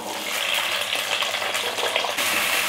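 Small onions sauté in hot oil for a thattaikkaai sukka varuval, giving a steady, close hiss of frying with faint stirring scrapes throughout, no voices.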